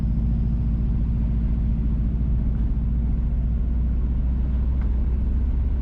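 Inside a car driving along a road through Derry, St Mary, Jamaica, a steady low engine and road rumble drones on continuously at even loudness, with no voices.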